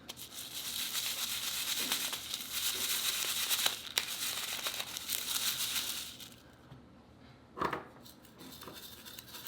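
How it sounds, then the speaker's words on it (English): A crinkly plastic bag is handled close up, rustling and crackling steadily for several seconds before falling quiet, then one short sharp crinkle near the end. "This bag is very crinkly."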